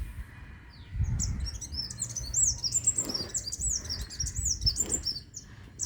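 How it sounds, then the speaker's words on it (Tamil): Small birds chirp and tweet in quick, bright trills and repeated calls, fairly close, with soft low rumbles and handling noise underneath. "ரொம்ப அழகாக பேர்ட்ஸ் ஹம் ஆகுது பாருங்கள்"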